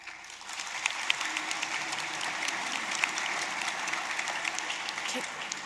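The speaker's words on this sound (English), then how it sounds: "Can we refrain from applauding till the end so that everyone can hear their names?" Dense, sustained applause from a sizable crowd at an MBA graduation ceremony, steady clapping filling the room at an even level for several seconds.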